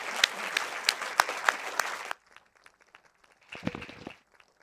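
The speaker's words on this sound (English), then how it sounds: "Can you give a big round of applause to Martin, Jan, Craig and Mariella?" A crowd claps and applauds loudly for about two seconds, then it cuts to near silence followed by a brief muffled burst of noise.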